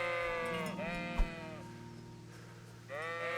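Sheep in the medieval Bohemian world of the video game Kingdom Come: Deliverance bleat in a few drawn-out, wavering calls, one near the start and another at the end, over a steady low ambient hum with no talk.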